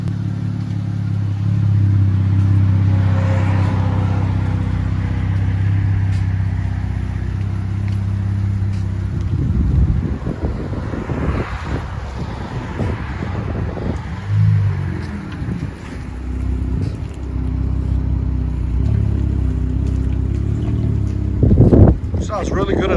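A Dodge Challenger engine revs, heard from inside the cabin as a low rumble that swells and falls in several pulls, with a person talking over it.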